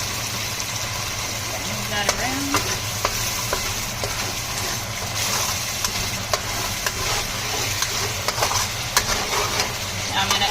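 Shiitake mushrooms stir-frying in a hot wok with vegetable oil, a loud continuous sizzle with scattered spatters and scraping stirs, steady throughout with a low hum underneath.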